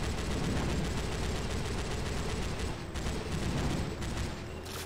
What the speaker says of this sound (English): I can shoot at things.